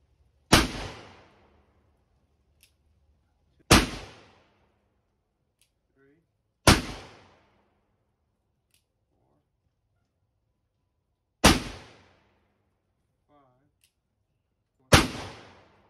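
Five loud black powder revolver shots fired one by one at uneven intervals of a few seconds, each a sharp close crack with a short decaying tail, silence between them.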